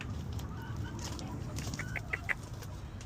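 Backyard hens settling into their coop for the night cluck softly, with a few brief higher clucks near the end over a low, steady background rumble.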